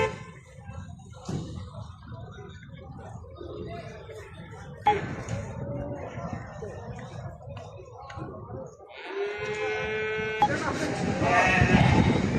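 Sheep and lambs bleating at a livestock market for sheep, goats and cattle, several calls rising over crowd chatter and background noise, with one loud bleat near the end.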